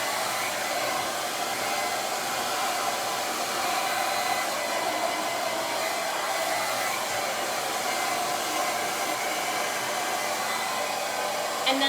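Hair dryer blowing hot air to heat and set waves in hair, a steady, even whoosh running loud and unbroken throughout with no talk.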